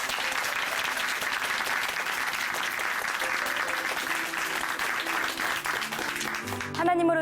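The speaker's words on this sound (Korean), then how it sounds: "오늘 간증해주신 박재 자매님께 다시 한번 박수 보내드립니다." A church congregation claps in sustained, steady applause for about seven seconds, with a dense, even texture that stays loud before tapering as music or voices enter at the end.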